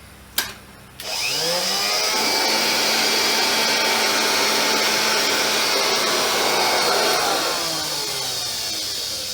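An old bagged vacuum cleaner, its drive belts not yet fitted, switches on with a sharp click and spins up to a loud, steady motor whine that runs unbroken to the end, with no talk.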